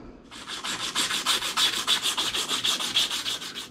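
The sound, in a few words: sandpaper cleaning the shaft of a new ECM motor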